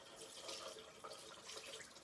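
Cold tap water runs steadily from a faucet into a bathroom sink to wet a face cloth at bedtime, a soft continuous splash heard close and alone.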